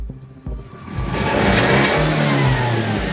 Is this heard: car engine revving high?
yes